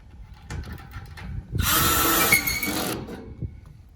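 A power drill drives a fastener into corrugated steel hurricane shutters. Faint taps come first, then a loud whirring burst of about a second and a half that winds down, followed by quieter clicks.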